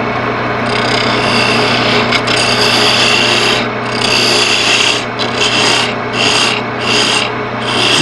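Steady, loud abrasive rasping of sandpaper on a wooden lid, with a rhythmic pulsing in the later part as the strokes repeat over a machine hum.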